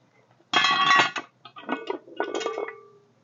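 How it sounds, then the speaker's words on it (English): A heavy metal lid lifted off a cast-iron Dutch oven of breakfast casserole set over an open campfire, giving a loud close clank and scrape, then several lighter metallic clinks and rattles as it is moved and set aside. "So let's get that lid off."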